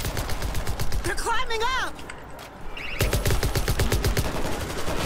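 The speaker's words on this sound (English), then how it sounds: "the turret will cover our side" Automated turret in World War Z firing steady rapid bursts of gunshots nearby, pausing briefly midway while a person talks, then resuming its rhythmic fire.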